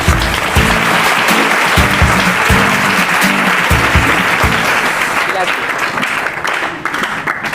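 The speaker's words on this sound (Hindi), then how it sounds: "जोरदार तालियां हो जाए उनके लिए" A studio audience at a Hindi TV quiz show bursts into sustained, loud applause for a contestant who answered first, the dense clapping running steadily for several seconds over a backing music bed and tapering slightly at the end.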